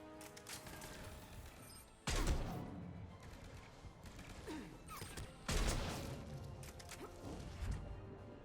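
Rifle gunfire in Mass Effect 3 on Insanity difficulty: two heavy, booming shots several seconds apart, each a sudden loud crack with a decaying tail, amid quieter scattered combat clatter and impacts.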